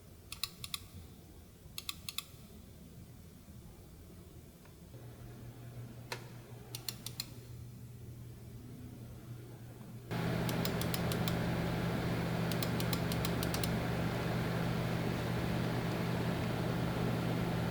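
Sound test of a PC case fan in an NZXT H1 build, run at stepped speeds: a quiet airy whir that jumps to a louder, steadier rushing hum partway through, with faint clicks over it.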